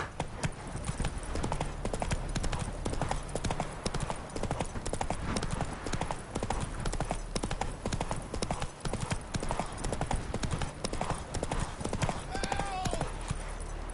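Roach, the horse in The Witcher 3, gallops in a dense, continuous drumming of hooves that runs loud and steady throughout, with a brief whinny near the end.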